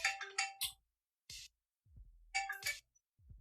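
A mobile phone ringtone plays in short, bright chiming bursts separated by silence, ringing loudly and close during a live stream.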